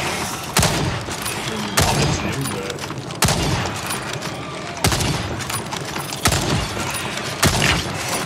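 Gunfire in the shooter Second Extinction, heavy shots landing roughly every second and a half in a steady rhythm over continuous battle noise, loud and close, with a brief bit of talk.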